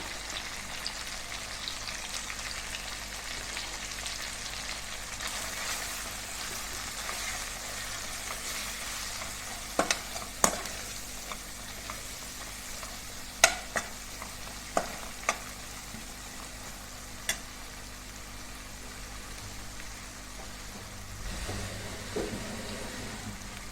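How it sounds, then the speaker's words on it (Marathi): Red chili powder, turmeric, coriander powder and garam masala sauté quietly in a pan for vegetable pulao, a soft steady sizzle with a handful of sharp spoon taps on the pan's rim. "हे मसाले आता ह्याच्यामध्ये घालून आपण परतून घेऊया"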